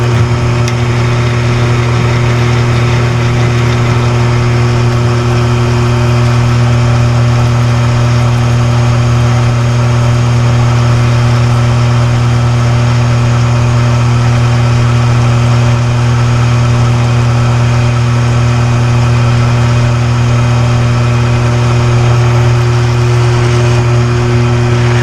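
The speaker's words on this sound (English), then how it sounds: "I'm gonna drill these holes and tap them, which means I'm gonna cut threads so you can screw into them" A steady, loud motor drone from a machine drilling and tapping holes in a machined gear, running evenly without pause for the whole stretch and with no voices.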